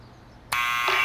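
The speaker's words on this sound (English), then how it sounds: "look at the buzzer" A gate buzzer sounds in the Back to the Future video game: after a quiet moment, a loud, steady electronic buzz starts suddenly and holds at full volume, with no voices.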